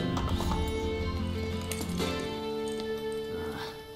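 Horse hooves clip-clop at a steady gallop in Assassin's Creed Brotherhood, a close, rhythmic pounding that carries through the whole stretch with faint game ambience beneath.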